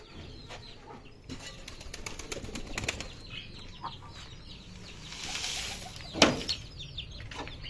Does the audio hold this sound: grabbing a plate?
no